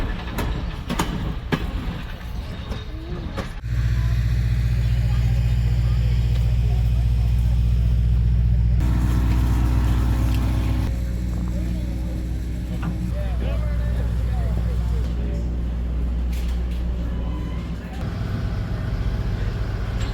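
Clinchfield 800 excursion train at the Southern Appalachia Railway Museum rolling with passengers aboard, a steady low rumble that swells loud after a few seconds and holds, with faint clatter above it.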